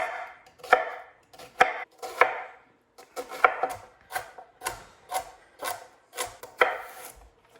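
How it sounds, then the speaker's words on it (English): A knife chops vegetables for soup on a cutting board in a run of sharp, irregular knocks spaced about half a second apart. The chopping is close and fairly quiet, with no talking. "I'm just gonna chop up the veggies that are gonna go inside"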